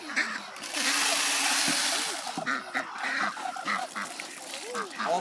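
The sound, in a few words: ducks quacking in video game farmLife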